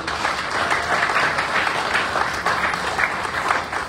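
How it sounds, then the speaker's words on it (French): Steady, dense clapping from a large audience at a New Year greetings ceremony, sustained at an even loudness throughout with no voices on top. "Vous pouvez applaudir pour eux."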